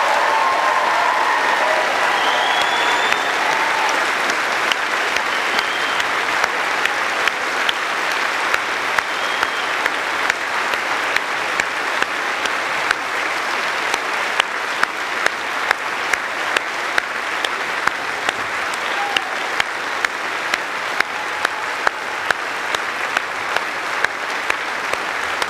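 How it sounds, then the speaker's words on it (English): A graduation ceremony audience at the University of York applauds the graduating class, long steady clapping that swells and carries on with crisp individual claps standing out near the microphone. "I think we all want to applaud the class of 2022."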